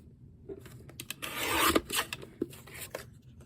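Close, faint cutting of paper for a budget journal page: a short raspy rustle swells in the middle, with a few soft snips and taps around it, alone without speech.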